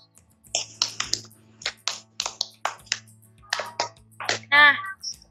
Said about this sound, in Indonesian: Beri tepuk tangan buat Silva.